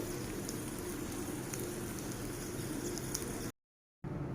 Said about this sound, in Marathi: हे आपण दोन्ही साईडने फ्राय करून घेणार आहोत तुपामध्ये